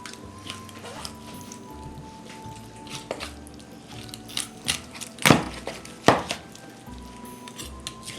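Quiet kitchen work with scattered knife taps and a few sharper chops against a board while cutting up pheasant, over a faint background hum.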